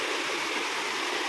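Water flowing in a small stream, a steady broadband rush and gurgle heard close by and fairly loud, with no speech.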